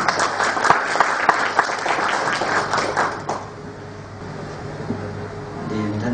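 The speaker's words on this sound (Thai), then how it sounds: "ขอเสียงปรบมือต้อนรับด้วยค่ะ" An audience applauds to welcome the chairman at a seminar in Surat Thani, with loud clapping for about three seconds that then fades into a quiet room with faint murmurs.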